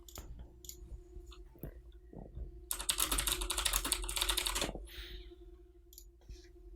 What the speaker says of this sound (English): You're gonna hear some keyboard clacking.